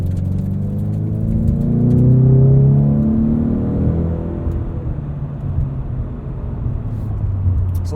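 A 2020 Ford Mustang EcoBoost with the High Performance Package accelerates in normal drive mode, its engine rising in a steady climbing drone that peaks and then settles into a lower, even rumble, heard close from inside the cabin.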